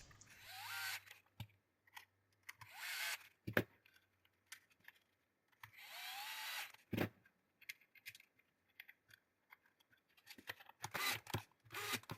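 Screws being driven back into the plastic housing of a Zeeksaw 6-inch chainsaw, heard up close as intermittent clicks, rattles and scraping bursts separated by quiet gaps, with no talking.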